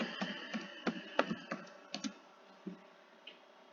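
Fingers type on a computer keyboard in quiet bursts of soft, uneven clicks, with short pauses between keystrokes.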